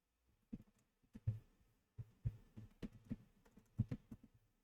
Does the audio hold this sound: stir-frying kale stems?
no